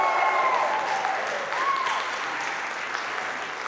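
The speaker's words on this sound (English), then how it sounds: "Can we have a big woohoo and clap?" Audience applause fills a church-like hall during a Sunday service, steady clapping mixed with scattered whoops and cheers, loud and continuous before fading slightly toward the end.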